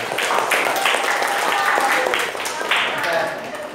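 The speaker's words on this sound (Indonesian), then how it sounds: "Tepuk tangan dulu dong." A lecture audience applauds steadily throughout, a dense wash of clapping held at an even level from start to finish.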